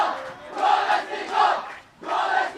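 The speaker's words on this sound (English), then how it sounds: "Wesley fans who were quiet all throughout are up cheering their team." Rugby fans at a school cup match between Science College and Wesley College cheering their team, loud crowd chants rising and falling in three rhythmic surges.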